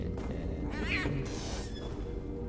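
A cat in The Elder Scrolls Online gives a short meowing yowl followed by a breathy hiss, heard close over steady background game ambience.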